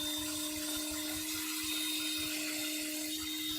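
A power drill runs continuously with a steady high-pitched whine and low motor rumble, heard fairly close and constant throughout, with no talk.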